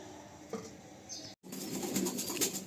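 Pigeons at a breeder's loft cooing and shuffling, with a brief burst of wing flapping and a moment of silence midway before louder fluttering and low coos resume close by.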